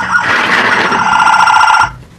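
A black toy police car gives off a steady electronic siren wail with a bright, continuous tone that holds for about two seconds, then cuts off abruptly.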